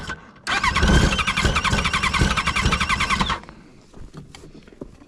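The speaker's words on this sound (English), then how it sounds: "It like idles really low." A Yamaha RX1 snowmobile engine cranks and catches, running rough and loud for about three seconds before cutting out and leaving a faint, low rumble.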